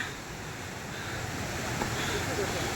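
A steady, loud roar of a forest waterfall fills the whole clip, constant and unbroken, with a windy hiss on top.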